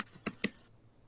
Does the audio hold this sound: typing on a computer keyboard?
yes